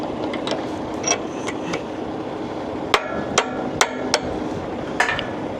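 Hammer strikes on a steel bolt while fitting a new bolt, a handful of sharp metallic whacks spaced unevenly, close and clear over a quiet outdoor background.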